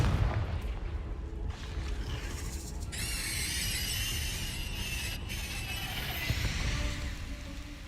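A Confringo fire-blast spell exploding in the video game Hogwarts Legacy, a loud rumbling blast with a bright, high whistling shimmer that holds for several seconds over a dense roar.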